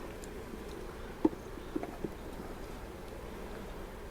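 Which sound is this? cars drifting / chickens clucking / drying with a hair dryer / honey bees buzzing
honey bees buzzing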